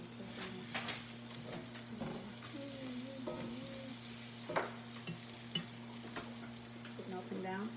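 Butter melting with flour in a pan gives a faint, steady sizzle, broken by a few soft spoon scrapes and taps, close and with no voices.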